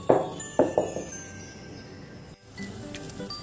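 A metal vessel of dhokla batter is tapped on a surface, giving three sharp knocks in quick succession, near and fairly loud, followed by quieter clinks and handling.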